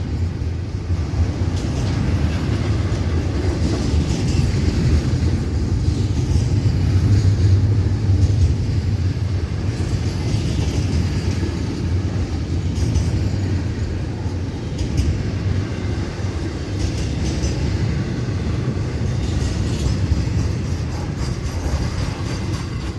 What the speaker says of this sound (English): This is one of 3 regular trains, intermodal trains, daily for the Florida East Coast.